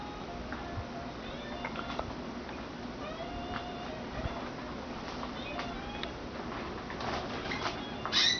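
Canaries chirp and tweet in scattered short calls around a breeding room of long cages, faint and somewhat distant over a steady background hum, with a louder burst near the end.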